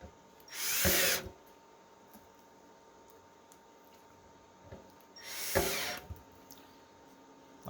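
Power drill driving screws down on the vat of an Elegoo/Anycubic resin printer during a film replacement, two loud whirring bursts separated by a quieter stretch of faint handling noise.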